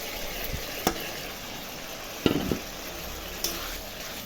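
Spices with homemade coriander powder stir-fried in a pan for mochar ghonto, a Bengali banana-flower curry, with a soft steady sizzle and a few sharp scraping and stirring knocks.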